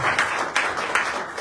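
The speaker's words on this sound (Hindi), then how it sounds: "तो वेलकम कैसे करेंगे? तालियों से।" Congregation clapping in welcome during a Sunday church service in Dubai, a dense, steady burst of hand claps filling the room throughout with a few sharper accents.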